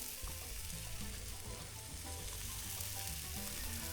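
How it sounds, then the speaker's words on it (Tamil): Masala-marinated seer fish sizzles steadily on an outdoor grill at a campsite, a dense, continuous crackle and hiss with no voices, fairly quiet throughout. "இப்போ வெளியில் இருக்கிற இந்த க்ரில்லில் நம்ம மசாலா போட்ட அந்த வஞ்சர மீனை வச்சு சமைக்க ஆரம்பித்தாச்சு"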